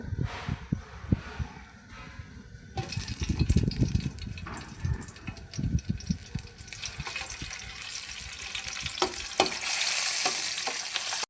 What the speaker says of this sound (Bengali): তেলটা গরম হয়ে গেছে এবার এর মধ্যে চিংড়ি মাছগুলো ভেজে নেব